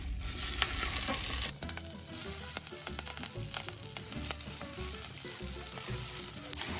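Red and green chard, washed beforehand, sizzling steadily in a pan and stirred now and then, with scraping and clinking of the utensil through a continuous frying hiss close by.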